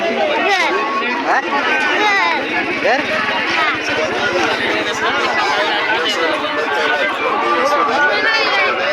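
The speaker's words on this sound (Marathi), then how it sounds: "खूपच गर्दी आहे इथे" Dense crowd bustle at the Rajur fair market during the annual yatra, with overlapping chatter, calls and footsteps close around, and a steady loud hubbub throughout.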